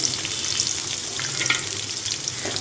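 Small shallots frying in heated oil for a lentil-dumpling curry, heard as a close, continuous crackling sizzle with faint stirring, steady throughout. No voices.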